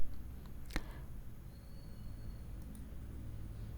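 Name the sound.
mouse click on Add Site button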